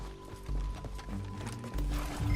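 Rhythmic clip-clop of horse hooves at a gallop in Red Dead Redemption 2, loud and close, layered over a steady low rumble and game-like background tones.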